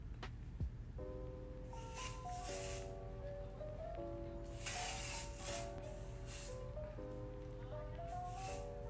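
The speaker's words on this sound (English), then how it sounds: "I'm going to use the Firm Hold spray from the same brand, Timo, and spray my back hair" Several short hissing bursts of hairspray, close to the mic, with background music playing throughout.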